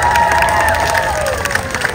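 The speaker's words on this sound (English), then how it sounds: "Thank you for clapping." A crowd at a street performers festival claps and cheers for a comic circus firemen act, with steady loud applause mixed with excited shouts, including children's voices.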